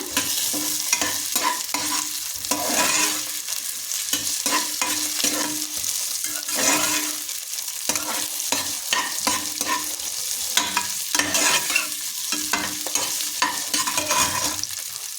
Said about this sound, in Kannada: ಇವಾಗ ಫ್ರೈ ಮಾಡ್ಕೊಳ್ಳೋಣ.